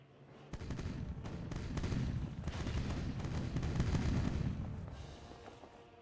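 Ship cannons firing at long range in the pirate video game Age of Pirates, a rolling series of muffled booms that swells and fades over several seconds, fairly faint and distant.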